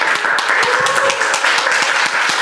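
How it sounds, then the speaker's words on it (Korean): Lively hand clapping from an audience welcoming a speaker at a church academy lecture, a fast irregular patter of close claps that stays even throughout. "모실 때 우리 박수로 모시겠습니다"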